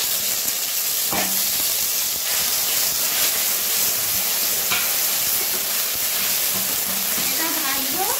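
Green chili and garlic frying in hot oil, a steady bright sizzle and hiss running throughout with a few brief clinks of stirring.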